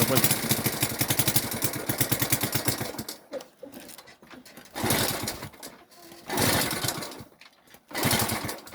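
A Delta moped's small two-stroke engine sputters and fires in bursts, with a steady rapid putter for three seconds, then several short revving attempts that catch and die away, close and loud.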